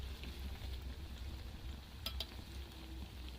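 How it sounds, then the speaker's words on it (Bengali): Oil sizzles quietly and continuously as boiled-potato snacks fry, with a couple of soft utensil clinks partway through. "এক পিট এক পিট করে উল্টে পাল্টে খুব সুন্দর করে ভেজে নিতে হবে"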